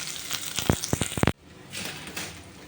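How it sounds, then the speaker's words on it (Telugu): Onion tempering for dal sizzles loudly in hot oil with several sharp bursts, then a sudden drop as it is poured into the dal, leaving a softer bubbling simmer. "ఈ తాలింపు దీంట్లో వేసేసుకోవడమే."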